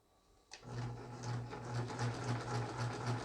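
Juki household sewing machine stitching after repair: a quiet start, then a sudden clunk as it kicks in, followed by a steady, rhythmic mechanical whirr with evenly spaced thumping pulses, close by.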